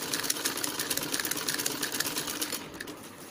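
A sewing machine stitches lace onto a net lehenga in a quick, steady, rattling run of needle strokes that stays close and loud and eases off near the end, with no voices.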